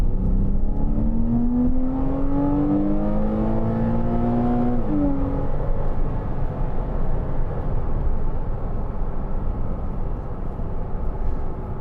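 A 2012 Porsche Cayman 2.9 987 with a PDK gearbox accelerating hard, its engine note rising loudly through a gear with a quick shift, then settling into a steady road roar, heard from inside the car without talk.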